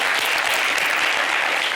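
Audience applause fills the whole stretch, a steady dense wash of many hands clapping in a studio setting, loud and continuous with no break.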